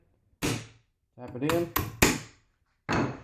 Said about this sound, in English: take your hammer / mallet, tap it in